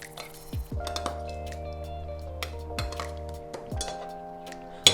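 Spinach and curly endive salad tossed with salt and pepper in a bowl: light clinks and scrapes of utensils against the dish, with a ringing resonant tone, intermittent and close.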